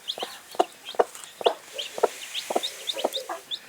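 A brooding kienyeji hen on a poultry farm gives a steady series of soft, close clucks, about two per second, with faint chick peeps in between.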